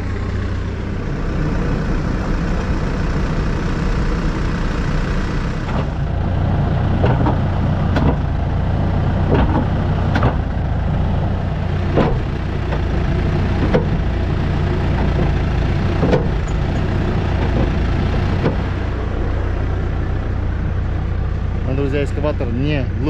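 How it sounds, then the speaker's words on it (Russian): A construction company's excavator engine runs steadily at idle, a continuous low diesel rumble throughout with scattered clicks and knocks on top. "Экскаватор не глушу, потому что он не заводится ни на холодную, ни на горячую без быстрого старта."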